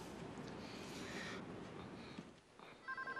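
A telephone rings in a hospital drama scene, the tone arriving as a few short repeated bursts at the end over a background of room noise.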